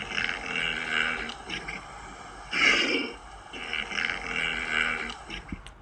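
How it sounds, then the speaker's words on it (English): A gazelle gives low, rough grunting calls in a few repeated bouts, with one louder snort in the middle. "And this animal makes this sound."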